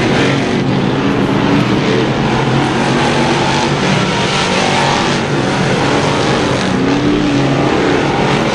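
Sportsman Modified race cars roar around the speedway in a continuous, loud, dense engine drone, with several cars blending together and slight swells as they pass.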